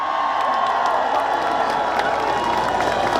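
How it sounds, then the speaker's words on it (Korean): A large outdoor crowd at a trot concert during the 38th Yeoju Ceramics Festival keeps up a dense, continuous wash of applause, cheering and shouts, loud and unbroken throughout. "큰 박수 한번 부탁드려도 되겠습니까?"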